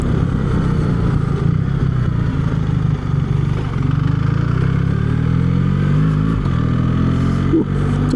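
A BMW R1300 GS motorcycle engine pulls through a turn, a close, continuous drone that rises in pitch as it accelerates, with wind rush over it and no talking.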